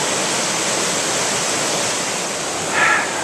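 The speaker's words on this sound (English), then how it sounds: "that's an awfully lot of water to be draining out of, maybe 3 little hollows or basin areas" Floodwater from a May 2010 flood pours and rushes steadily as it drains out of small hollows and basins, a loud, continuous broadband roar with no talk, plus a brief brighter splash near the end.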